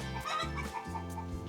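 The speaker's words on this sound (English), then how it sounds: "the chickens are crazy" Chickens cluck and squawk close by near a greenhouse, a busy chorus of overlapping calls.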